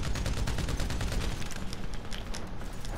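Rapid automatic gunfire in the video game GTA 5, dense overlapping bursts of shots, loud and continuous for the whole stretch with no talk.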